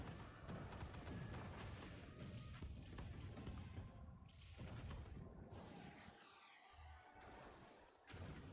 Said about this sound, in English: Let all those cannons go!